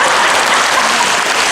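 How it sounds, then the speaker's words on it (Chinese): Audience applause at a church hymn showcase and Sunday worship service, dense continuous clapping that stays loud and even throughout, with no voices over it. "给我阿公掌声鼓励。"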